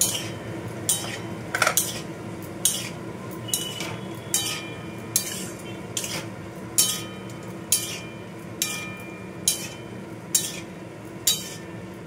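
A spoon scrapes and knocks against a pan while potatoes are stirred with poppy seed paste, turmeric and red chilli, in regular strokes about once a second over a faint frying hiss, with no voices.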